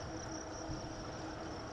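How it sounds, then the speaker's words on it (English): Steady, dense insect chirping, like crickets, in a forest area fills the background with a constant shrill buzz, no voices. "You hear all the chirping."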